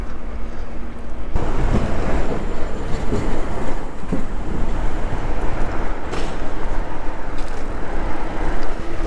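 A tram passes along a city street in Kraków, producing a loud, continuous rumbling roar with rattling and grinding that fills the whole stretch close by, with no voices over it.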